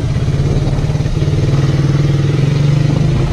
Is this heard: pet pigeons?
no